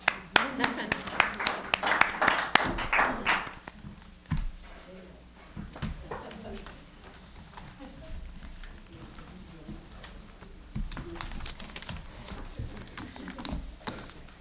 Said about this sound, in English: I want to extend a special thank you and applause to all of you for coming out.